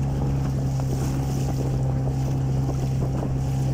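A small boat fitted with a homemade propeller runs fast across the water, giving a loud, steady engine drone with rushing wind buffeting the microphone and the slap of water throughout.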